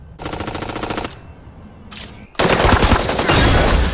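Bursts of rapid automatic gunfire in the video game Super Mecha Champions, one long volley, a brief pause with a single shot, then a louder sustained barrage, close and harsh.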